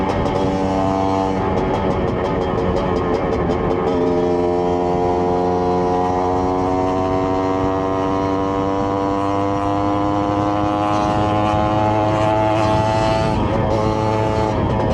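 Honda NovaRS 110 motorcycle from about thirty years ago being ridden, its two-stroke engine droning loud and close with rising revving tones as it accelerates, constant throughout.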